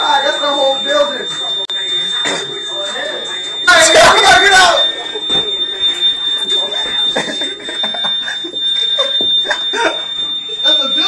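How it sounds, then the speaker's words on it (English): A building fire alarm rings steadily as a high, sustained electronic tone under close, hurried talk from several people, with a burst of louder noise partway through. "somebody put the fire alarm outside. That's the whole building."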